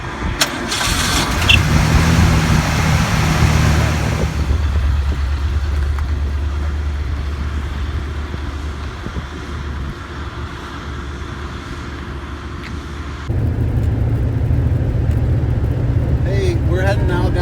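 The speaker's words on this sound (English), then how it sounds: "we're going to go ahead and start the car so you can see what it sounds like" An old 1976 Ford Mustang II cranks and starts, then settles into a loud, rumbling idle before a rev lifts the engine note near the end, close up and with no talk over it.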